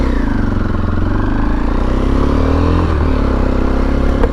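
A Kawasaki KLX230 dual sport motorcycle engine drones loudly and steadily at close range while being ridden, with a mid-pitched rumble and a little rattling clatter throughout.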